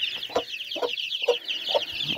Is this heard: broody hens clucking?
yes